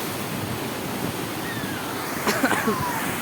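Sea waves surge on Bharadkhol Koliwada beach in rough, stormy conditions, a dense, continuous roar of surf and wind buffeting close by, with a brief splash and rustle near the end and no clear speech.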